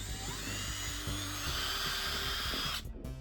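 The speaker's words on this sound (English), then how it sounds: "we're going to drill a hole right where the 2 points meet" Power drill boring a screw hole into the end of an old wooden coffee table spindle, a steady high whine held for about three seconds before cutting off sharply, close and loud with no talk.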